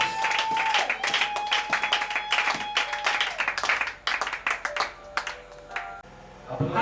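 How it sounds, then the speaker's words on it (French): A church crowd at a youth prayer closing service claps and cheers for the king, dense applause mixed with shouts and a sustained tone, loud and near, tapering into scattered claps at the end. "Est-ce qu'on peut acclamer pour le roi?"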